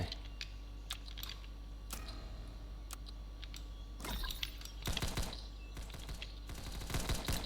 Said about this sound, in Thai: ทหารยิงทหารยิง ยิงรัวรัวรัวรัวรัวรัวรัว